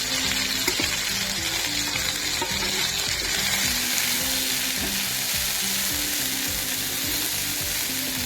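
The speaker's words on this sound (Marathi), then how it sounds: "तेल सुटेपर्यंत तळायचा मसाला" Ground roasted masala frying in hot oil, the same oil used for frying soya chunks, with a steady loud sizzle throughout and occasional scraping strokes of a spoon stirring the pan, no talking.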